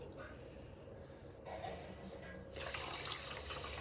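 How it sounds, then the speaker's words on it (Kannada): Water running and pouring into a bowl of sugar for gulab jamun syrup, a soft steady trickle that grows fuller and louder partway through. "ಅದೇ ಬೌಲಲ್ಲಿ 2 ಬೌಲ್ ನೀರು ಹಾಕೋದು"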